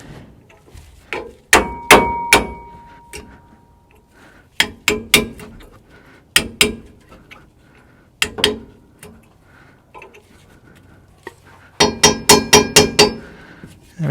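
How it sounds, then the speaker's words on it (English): Sharp metallic hammer strikes knock at a seized rear stabilizer link on a GM SUV, coming in quick bursts of two to six ringing blows separated by pauses. "so we're going to have to try and tap this off."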